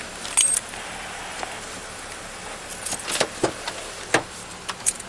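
A car's remote unlock at a roadside police stop: several short clicks and clunks of the door locks releasing, scattered over a few seconds against faint outdoor background.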